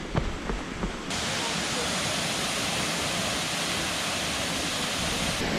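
Dhokaney Waterfall in Uttarakhand pours down in a dense, steady roar, close and loud after a short stretch with a few brief clatters and voices at the start.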